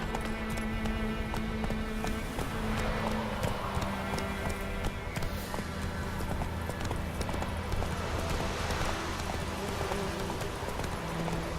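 Galloping hoofbeats of the horse Roach in The Witcher 3, a rapid, steady clip-clop rhythm running continuously under game ambience and music.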